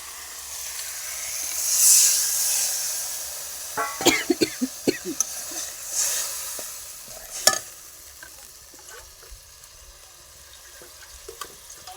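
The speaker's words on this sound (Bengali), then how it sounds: "মশলাটা ভালো করে কষাচ্ছি বন্ধুরা।" Spice paste for a fish curry sizzles and spatters in a hot pan, with scattered pops and crackles and a few stirring scrapes over a steady soft hiss.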